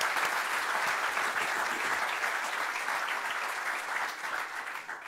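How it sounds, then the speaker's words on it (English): An audience claps steadily for three panelists at a panel discussion, a dense wash of applause from many hands that carries on evenly throughout. "let me invite the audience to join me in a round of applause for our three panelists"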